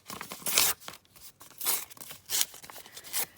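Printed index paper torn down from a book page in four bursts of rough ripping, each lasting a fraction of a second, close and loud with no talking.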